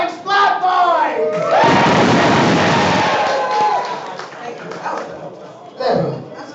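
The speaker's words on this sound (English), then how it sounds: "Cheer if you like Splat vibes." A large crowd at a Splatoon 3 LAN tournament roars and cheers loudly for several seconds, rising sharply, then fading, with a brief shout at the end.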